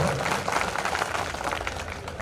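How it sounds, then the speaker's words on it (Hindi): An audience applauds steadily at a Hindi kavi sammelan poetry gathering in Damua, a dense, even wash of many hands clapping that holds for about two seconds without a break. "इतनी तालियां काफ़ी नहीं है"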